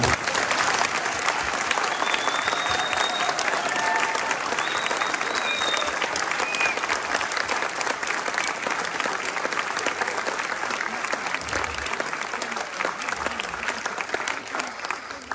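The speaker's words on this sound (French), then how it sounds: "Je vous propose que nous applaudissions collectivement." A mayor's New Year's greetings ceremony audience applauds together in one long, dense, sustained round that stays loud and even from start to finish, with no voices rising above it.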